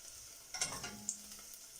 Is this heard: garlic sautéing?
yes